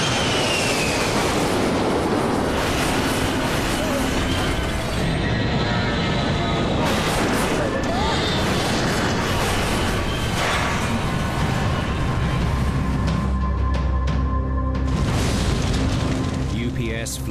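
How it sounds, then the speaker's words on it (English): A UPS cargo plane on Flight 1354 tears through a small grove of trees in a crash, a loud sustained roar of engine noise mixed with rough crashing and booming bursts, with voices heard in the din. "the pilots can't control the plane as it cuts through a small grove"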